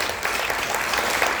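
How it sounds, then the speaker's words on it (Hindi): A lecture audience breaks into loud, dense applause, a brief steady burst of many hands clapping together. "तालियां जोर से"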